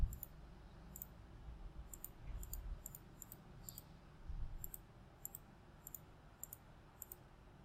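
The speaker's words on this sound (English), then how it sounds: "then we click on all the checkboxes" Computer mouse clicks while ticking a row of checkboxes, a dozen or so crisp, faint clicks spaced unevenly over a quiet room hum.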